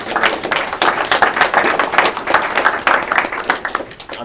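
Workshop audience applauding in a room, a loud, dense burst of clapping from a sizeable group that stays steady throughout, with no talk over it.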